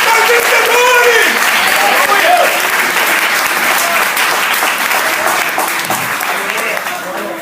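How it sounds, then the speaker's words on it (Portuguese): Loud, sustained applause from a church congregation during a worship service, a thick roar of clapping close by that fades a little toward the end, with voices calling out beneath it. "Aplauda o Senhor!"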